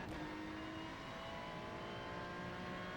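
A Ferrari 296 GT3 race car in the iRacing sim at Magny-Cours accelerates out of a corner, its engine droning steadily and loudly throughout with a rising tone.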